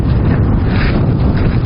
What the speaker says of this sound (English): Probably be editing some of this out because of the wind